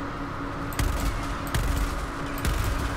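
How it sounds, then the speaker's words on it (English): A P90-style SMG fires in the video game Helldivers 2, with three short, loud bursts of rapid shots spaced about a second apart over a steady background of game noise. "let's try this SMG out then"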